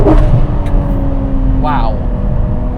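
A Ferrari 599 GTO engine roars loud and close throughout a test drive, with a steady, dense mechanical drone and a brief rising surge partway through, while a voice briefly sounds over the engine.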